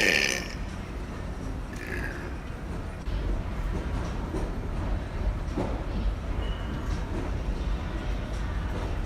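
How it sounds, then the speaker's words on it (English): Loud burps let out in front of people at a convenience store. A couple of long, croaking belches come near the start over busy indoor store ambience. "I'm going to be doing a couple really loud burps right in front of people."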